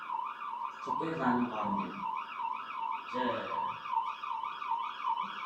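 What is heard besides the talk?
fire truck siren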